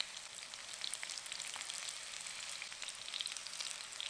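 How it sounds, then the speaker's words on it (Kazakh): Battered fish pieces frying in a pan, a soft, steady crackling sizzle with fine spatters, faint and even throughout with no talking. "Балықты жақсы қуыру үшін барлық жағына аударамыз."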